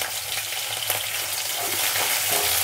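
Finely sliced onion, green chillies and garlic cloves frying in a pan for a moong dal bottle gourd curry, a loud steady crackling sizzle close up with stirring, no talking.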